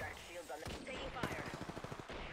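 Rapid automatic gunfire in a first-person battle royale video game, a fast train of sharp cracks sounding close and moderately loud, with voices talking over parts of it.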